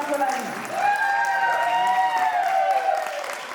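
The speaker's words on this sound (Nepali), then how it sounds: "एकचोटि जोरदार ताली फुल क्लब जापानको लागि" An audience applauds at a Nepali group dance competition in Tokyo, Japan: dense, steady clapping that lasts throughout, with sustained, pitched voices or cheering layered over it.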